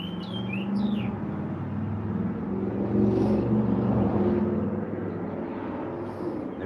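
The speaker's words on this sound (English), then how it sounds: "I like listening to the birds too" Small finches chirping outdoors, a few brief high tweets early on and faint calls later, over a constant low rumble of distant traffic.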